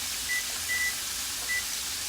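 Kitchen timer being set while meal prepping, giving three short, faint electronic beeps spaced apart over a steady background hiss.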